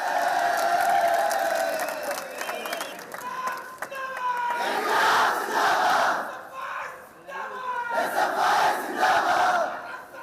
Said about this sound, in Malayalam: കയ്യടി, മുദ്രാവാക്യം വിളിക്കും കുറവില്ല